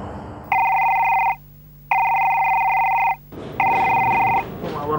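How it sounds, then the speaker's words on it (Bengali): A telephone rings loudly and close, three sustained electronic trills separated by short silences, with no voices. "আবার ফোন দেয় কেন রে?"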